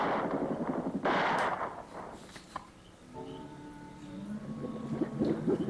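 Blank rounds fired from a gun in an old giant-leech monster movie, a few sharp cracks early on followed by distant echoing shots, with a voice and other film sound under them.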